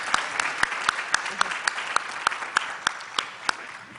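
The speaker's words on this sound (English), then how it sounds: "Please join me in a round of applause." Indoor audience applauding at the close of a talk on American health care, a steady patter of many hands with a few sharp, distinct claps standing out close by.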